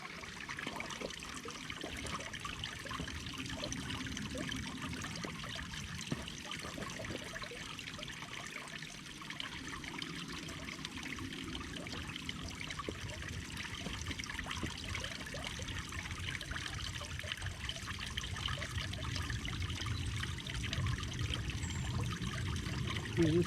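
Clear water trickles and streams steadily outdoors, a continuous close flow that runs the whole time with no voices over it.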